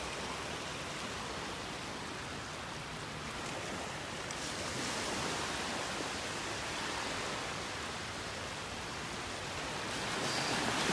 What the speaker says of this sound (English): look at those little waves